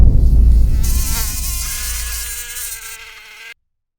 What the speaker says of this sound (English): those mosquitoes are still here in my area